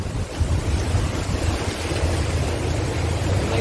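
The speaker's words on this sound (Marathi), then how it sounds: "ही गाडी आहे ती पाण्यातून चाललेली आहे।" A vehicle pushes through water on a hilly route in Goa, giving a loud, continuous rush and churn of splashing water mixed with wind buffeting, with no pause throughout.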